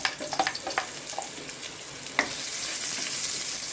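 Garlic and onion sizzle in hot oil in a pan, with a few stirring scrapes at the start before the frying settles into a steady, close, even hiss with no talk.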